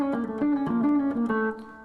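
A quick electric guitar scale run moves through a seven-note pattern across two strings. The notes are picked fast and distinctly, close and fairly loud, and the last one rings briefly.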